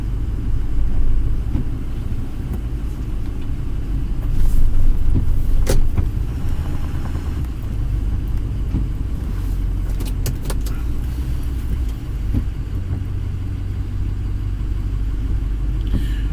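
A diesel engine idles and runs with a steady low rumble close by, with occasional clicks and rattles over a constant drone from a vehicle on a snowy work outing.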